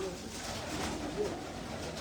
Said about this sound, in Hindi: सारे अल्हम्दुलिल्लाह मेरे घर के कबूतर और आसिफ तैमूरी भाई के कुछ कबूतर हैं